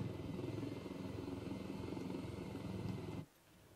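A helicopter in the video game Ghost Recon Wildlands gives off a steady, dense rotor and engine drone that cuts off suddenly near the end.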